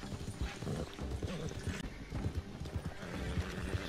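A horse in the Red Dead Redemption 2 video game whinnies after being struck while its hooves clop in a quick, uneven rhythm, close and fairly loud throughout.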